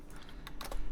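Typing on a Topre RF 87U keyboard in a Digilog case with 55 gram domes and silenced RF purple sliders: a few soft, muted keystrokes in quick succession, close and alone.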